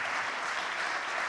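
Conference audience applauding in a hall, a dense, steady wash of many hands clapping throughout without a break.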